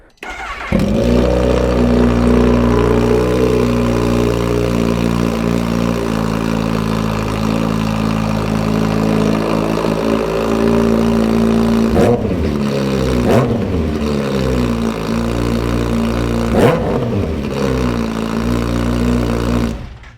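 Kawasaki H2 SX SE motorcycle with a black ceramic-coated Scorpion slip-on exhaust, dB killer baffle removed, idles loud and close, then is blipped through two sharp revs with a third rise near the end.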